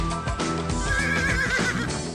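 Horses whinny and neigh at a harness and gallop racing meeting at the Šabac hippodrome, a loud drawn-out call over steady background noise with hints of hoof clip-clop, and no talking.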